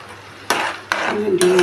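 Beetroot chutney being stirred in a pan, a spoon scraping and pushing the thick mixture in three short strokes with a light sizzle underneath, close and fairly loud.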